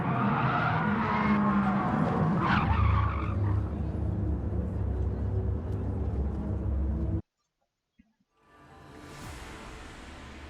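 Race cars in the Rallycross GT video game skid and roar with tire squeal at a classic-car event, a loud continuous engine and sliding noise that stops abruptly, followed by a brief quiet and fainter track sound.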